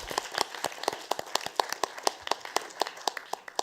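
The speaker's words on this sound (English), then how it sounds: "So, round of applause for him." Sparse applause from a small conference audience after a colleague is thanked: distinct individual claps in an uneven rhythm, moderately close and fairly quiet, with no talking over it.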